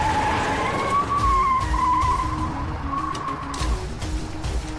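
Tires skid and squeal as a car swerves through evasive driving in the 2014 action film Mercenaries, a loud sustained screech over roaring engine noise, with no talk.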